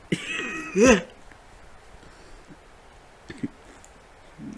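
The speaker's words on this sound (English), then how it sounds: "Almost went into a coughing fit." A person coughs and clears their throat near the start, followed by quieter stretches with a few small clicks.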